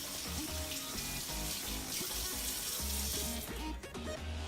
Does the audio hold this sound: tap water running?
yes